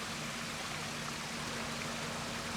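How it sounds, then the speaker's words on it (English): Water pouring continuously through two bucky shower filters fed by pumps on a koi pond, a dense, steady splashing cascade heard up close with no pauses. "So most of my water gets fed back through these two bucky showers."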